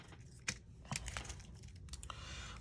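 Adhesive tear-and-tape strip from a Stampin' Up Paper Pumpkin card kit being handled and peeled, with soft crinkling and a few sharp crackles and taps close by, then a brief rasping peel near the end; no talking.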